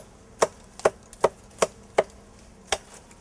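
English ivy vine of significant size being cut with downward slicing strokes, six sharp, close cuts landing at a fairly steady pace, then a brief pause before the last one, with no talking.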